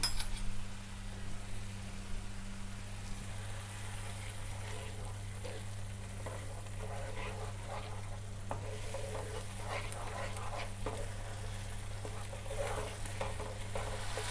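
Spice masala for a peanut curry sizzles in oil in a pan over a low flame while a utensil stirs it, giving soft scraping and light clinks above a constant frying hiss.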